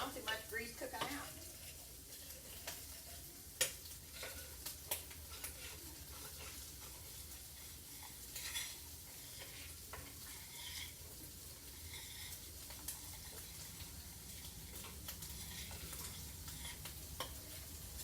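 Sausage fries in a pot for gumbo, a soft steady sizzle under repeated stirring scrapes and light clinks of a utensil against the pot, no voices.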